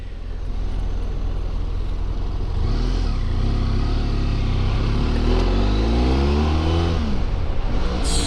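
A BMW F700GS motorcycle engine hums and rises in pitch as it accelerates, its tone sweeping up and dropping through smooth gear shifts, with steady road and wind noise throughout.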